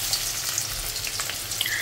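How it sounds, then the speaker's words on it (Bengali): Cooking oil sizzles in a kadai on a lit stove, a soft, steady crackle with faint pops, quiet and close, with no voices. "এরপর পরিমাণ মতন তেল দিয়ে দিব এখন।"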